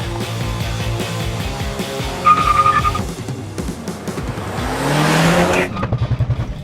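A Honda Prelude, Subaru WRX and VW Jetta GLI launching side by side in a quarter-mile drag race, close engine roar and revving with a short tire squeal, the sound rising as the cars pull away.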